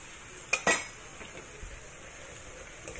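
Utensil clinks against a pan as sauce is stirred while cooking vegetarian lotus roots: two sharp metallic knocks close together, then faint scraping and a soft tap, fairly quiet.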